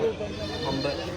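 A goat bleats briefly and nearby at a busy market, a short wavering call overlapping with background chatter.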